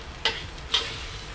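Shaoxing wine going into a sizzling wok of pork and green beans, a low hiss under two crisp spatula scrapes spaced about half a second apart, close by with no voices.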